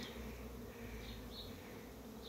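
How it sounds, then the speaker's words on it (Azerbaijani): Bees buzz softly and steadily around hives after rain, a faint continuous drone with no voices. "Yağışdan sonra arılar hələ tam aktivləşməyib."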